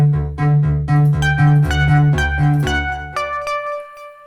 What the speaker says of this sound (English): That, ladies and gentlemen, is a classic sound of the Moog synthesizer.